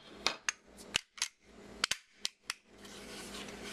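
Sharp, close metallic clicks and snaps come from handling an HK USP pistol as its magazine is popped out, with several quick separate clicks followed by a softer sliding rustle.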